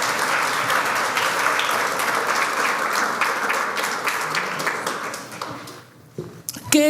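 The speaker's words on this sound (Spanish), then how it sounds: "Entonces denle un fuerte aplauso mientras yo tomo agüita." A church congregation bursts into loud, dense applause that fills the hall for several seconds, then thins out to a few scattered claps and small knocks at the end.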